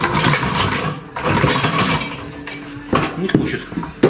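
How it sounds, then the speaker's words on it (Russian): A car engine being pried loose from its gearbox, with metallic clanks, scrapes and ratcheting knocks in uneven bursts, close and loud, some sharp impacts near the end. "теперь я буду пытаться отсоединить двигатель от коробки."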